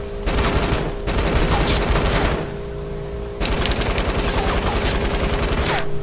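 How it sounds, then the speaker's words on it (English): Light machine gun fire in a video game shooter: loud, rapid automatic bursts crackle close by, with a brief lull near the middle before the sustained firing resumes. "Who the fuck is shooting an LMG?"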